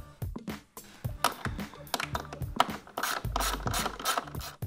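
Rapid ratcheting clicks from a socket wrench come in bursts with short pauses, close by, mixed with scraping and metallic rubbing as the center grille fastener on a 2018-2020 Ford F-150 is worked loose.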